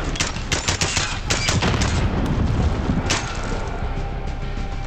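Rapid gunfire and machine-gun bursts from the Call of Duty Modern Warfare campaign mission in Verdansk crack loudly and close in dense, overlapping volleys, then ease into a steadier rattle with no speech.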